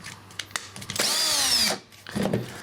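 A repaired Wurth or Milwaukee cordless drill revs up for about a second with a rising then falling whine, loud and close, amid short handling clicks before and after.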